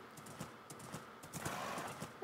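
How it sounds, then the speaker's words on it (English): A horse's hooves clip-clop at a steady, rhythmic gait in Minecraft. The even series of soft hoofbeats plays over a faint ambient background with no talking. "Let's get off my horse."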